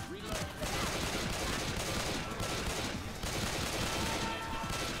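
Rapid gunfire from Left 4 Dead 2 played on its hardest difficulty with pistols, a dense fusillade of shots running continuously with brief dips, with faint voices mixed in.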